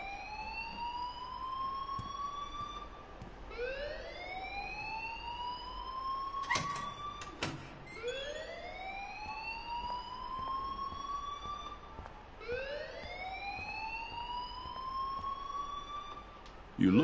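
A fire alarm wailing in the Life is Strange video game, a rising siren sweep repeating about every four seconds, with a couple of sharp clanks in between, alone.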